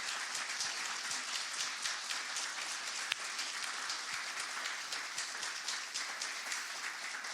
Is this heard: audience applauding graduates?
yes